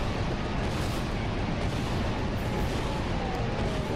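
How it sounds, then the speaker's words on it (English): Drone cannons firing nonstop in the video game Ratchet and Clank: Going Commando, a dense, continuous roar of blasts and booms filling the whole stretch at loud, even level. "you can hear it out of the sound of the drone cannons constantly firing"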